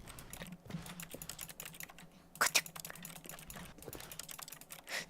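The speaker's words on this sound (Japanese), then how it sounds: "なんか決定ボタンを押するとキーボード打ってるような音すんの。" Rapid keyboard-like clicking from pressing the confirm button in The Stanley Parable video game, dense irregular taps in bursts, fairly quiet and close, with a louder cluster midway.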